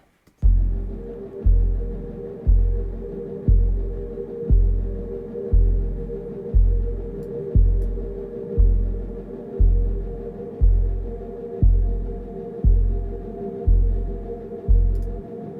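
Full electronic soundtrack mix built from nature recordings, with a deep kick drum thumping steadily about every second under sustained tonal layers that pump with sidechain ducking, loud and continuous.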